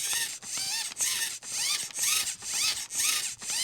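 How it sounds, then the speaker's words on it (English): Older Arrma Granite RC servo with plastic gears driven back and forth, giving about seven quick whining sweeps. Each sweep has a rising and falling pitch and a thin, buzzy tone, with brief pauses between them. "This is the older version servo."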